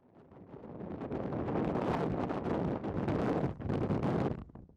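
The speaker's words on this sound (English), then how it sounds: "I had bad luck with the weather, which was very windy" Strong wind buffets the microphone in gusty, roaring bursts, briefly dropping away before surging again. No one speaks.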